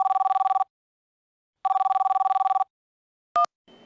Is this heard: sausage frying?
no